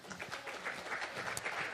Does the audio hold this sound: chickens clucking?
no